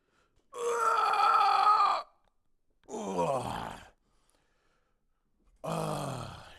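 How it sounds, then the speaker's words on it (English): A person lets out three deep, drawn-out yawns, the first the longest and loudest, each rising into a groaning exhale and separated by short silences, with no talk. "That was a deep, healthy yawn."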